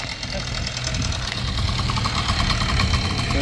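A two-stroke engine on a Lifan KPX250 motorcycle, smoking after sitting a while, runs at a steady idle with a buzzy, knocking pulse close by.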